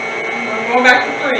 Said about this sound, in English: beat the mixture on medium-low speed until combined and creamy